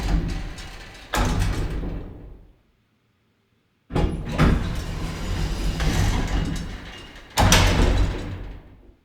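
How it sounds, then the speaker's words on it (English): Sliding patio door from a sound effects library: three separate rolling, rumbling glides, each opening with a sharp thud, with a brief silent gap between the first and second. "Sliding patio doors, and then even some elevator sounds down here."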